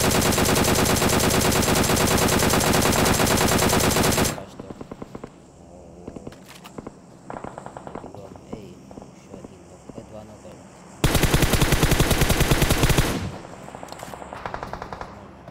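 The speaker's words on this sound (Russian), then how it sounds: "Справа стреляет, слева стреляет." Long sustained machine-gun bursts rattle loudly in a shooter game match, a first stretch of several seconds and then a second stretch, with sparser single shots and quieter firing between them.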